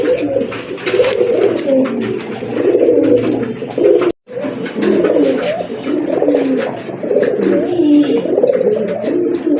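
Pigeons coo continuously in low, throaty warbles, several birds close by, with a brief silent gap partway through.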